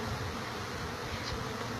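Honey bees buzz during a live removal from a house soffit, a continuous close, dense drone of many wings with no talk.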